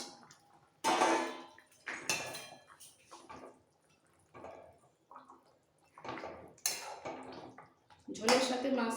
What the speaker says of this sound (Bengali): এই সময় দিয়ে দিচ্ছি ভেজে রাখা মাছ